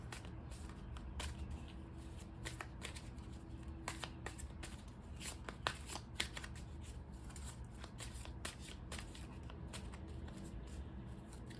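Tarot cards riffle and shuffle repeatedly up close, crisp flutters and snaps in an uneven rhythm over a low background hum.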